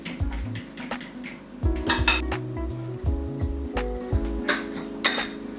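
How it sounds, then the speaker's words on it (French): A whisk beats eggs and sugar into cake batter in a bowl, producing quick rhythmic metallic clinks and scrapes that come in short repeated runs, close by and unaccompanied by talk. "Je reviens mélanger"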